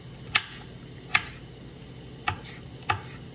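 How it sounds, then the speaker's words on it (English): A knife chops green pepper on a cutting board in a kitchen: four sharp, separate knocks spaced unevenly over a few seconds, close and moderately loud above a low background hiss. "our green pepper is chopped"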